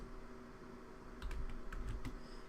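A handful of quiet keystrokes on a computer keyboard as a command is typed, short soft taps clustered in the second half over a low steady room hum.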